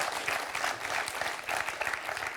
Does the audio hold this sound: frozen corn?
no